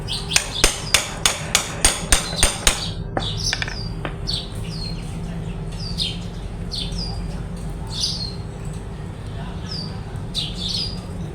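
Rapid metallic hammer strikes ring out about nine times in quick succession as an oil pump gear on a Honda Wave 100 motorcycle is driven into place, then stop, leaving chirping birds and a low steady hum in the background.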